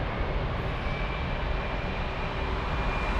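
A jet aircraft takes off at Frankfurt airport, a continuous broad roar that holds steady and fairly distant throughout with no voices over it.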